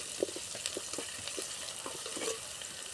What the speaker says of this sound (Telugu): ఆనియన్స్ అయితే బాగా మగ్గిపోయి పసుపు వేసుకుని బాగా తిప్పేసుకుందాము